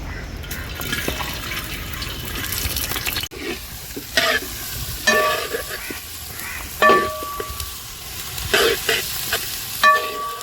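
Chopped onion in oil in an uruli pan, a close sizzle broken by repeated knocks and scrapes of stirring, fairly loud with no voices.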